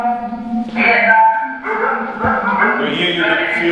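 Recorded dogs bark and yelp loudly in a refugee-experience museum exhibit, a harsh run of overlapping barks and whines with tonal, growling texture that carries on for several seconds.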